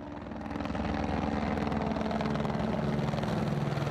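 Border Patrol helicopter flying overhead near the El Paso border, a rhythmic thumping rotor beat that swells within the first half second and then holds steady and fairly loud, with no talk.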